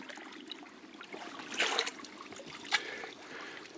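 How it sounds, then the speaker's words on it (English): Cold stream water is scooped and poured into a filter bag outdoors on a freezing day, about 25 degrees. It makes a faint, continuous trickle with a couple of brief, louder splashing surges. "put some water in the bag"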